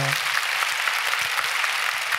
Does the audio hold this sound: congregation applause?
yes